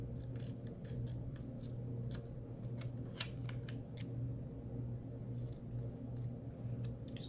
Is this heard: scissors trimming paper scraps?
yes